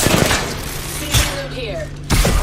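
Gunfire aimed at the player in a ranked solo battle-royale match comes in loud rapid bursts with short gaps between them, mixed with game sounds.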